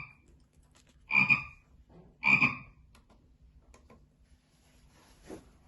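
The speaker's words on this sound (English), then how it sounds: "Well done! It's a frog." A frog gives two loud, raspy croaks about a second apart, followed by a softer third croak after a quiet stretch with faint background noise.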